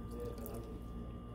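Half a glass of water pours into pasta in an air fryer basket, a brief soft splashing trickle, quiet and close with no talk.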